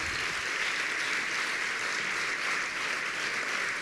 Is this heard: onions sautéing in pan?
no